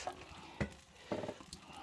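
Something boiling and sizzling in a pot over a wood-burning fireplace gives quiet, intermittent bursts of bubbling and sizzle, with faint stirring noises between them.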